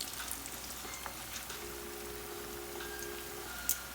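Plantains sizzling and frying in a pan, a steady close crackle with faint pops and a brief sharp clink near the end, no voices.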